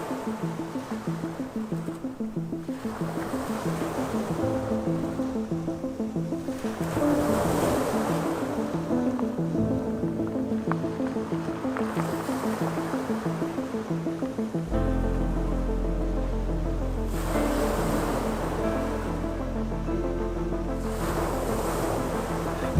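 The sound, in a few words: ocean waves on volcanic island rocks, Lanzarote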